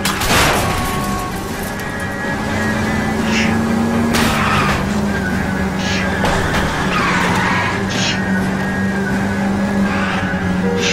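A car chase in the video game L.A. Noire: a steady engine roar drives on throughout, broken by skidding tire squeals and a few sharp impacts, loud and continuous with no talking.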